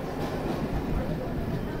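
A Howrah–Puri local train pulls out of Bhadrak railway station, with a steady, close rumble of wheels and carriages that holds for about two seconds before cutting off.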